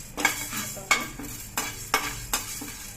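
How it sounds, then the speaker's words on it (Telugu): Urad dal frying and being stirred in a pan for tamarind-leaf podi, with about five distinct scraping stir strokes over a soft continuous sizzle, close and fairly quiet. "మినపప్పు వేసుకున్నాం అండి. వేగిపోయాయండి మినపప్పు,"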